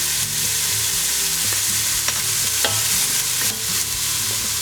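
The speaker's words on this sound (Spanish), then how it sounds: "Empezamos sofriendo la cebolla. Le ponemos un poco de sal" Onion frying with salt in a pan, a dense continuous sizzle with stirring scrapes and small knocks, close and loud with no voices.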